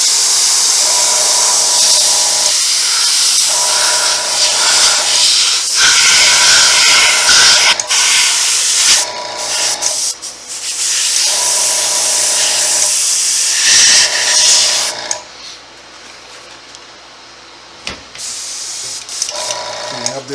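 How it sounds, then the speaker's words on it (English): An airbrush spraying paint onto a skinned-face latex mask, a loud steady hiss in bursts with short pauses between passes, compressor noise underneath. "We have the airbrush."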